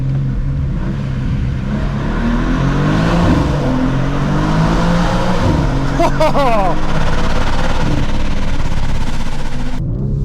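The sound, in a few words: sports car engine in tunnel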